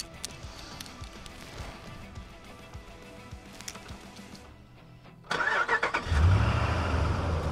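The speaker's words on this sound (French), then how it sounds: "Démarrage à distance" RAM 1500 DS pickup engine starting by remote start, with a quiet lead-in before the engine catches and settles into a loud, steady, close idle rumble.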